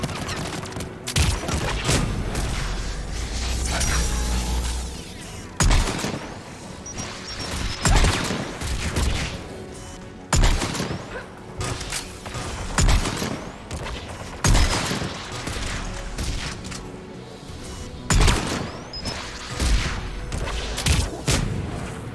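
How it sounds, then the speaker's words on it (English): Defensive guns guarding a tower in the video game Mass Effect 3 fire repeated heavy bursts of booming, crashing shots in uneven clusters, loud and close throughout, separated by brief lulls. Nobody speaks. "There! The guns protecting the tower!"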